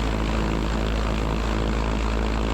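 UL Power 350i aircraft engine of 118 horsepower running up to 1,600 RPM, a loud, continuous propeller drone heard close by without speech.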